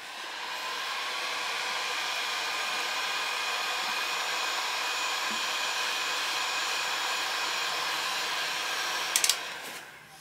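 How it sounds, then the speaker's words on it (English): A heat gun blows on the damaged old finish of an archtop guitar with a steady, close, whooshing fan roar that holds unbroken for about nine seconds before a couple of sharp clicks. "I can take a heat gun and help things along here"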